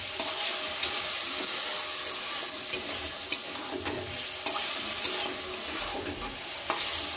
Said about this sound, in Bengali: মশলার সাথে লটিয়া মাছটা কষিয়ে নেব